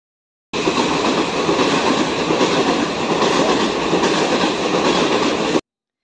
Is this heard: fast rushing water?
no